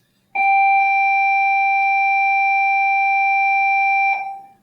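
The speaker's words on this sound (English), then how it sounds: "I don't know what's going on with the bells" A steady electronic school bell or tone rings loud and unbroken for about four seconds, its clear sustained pitch cutting off abruptly and fading out.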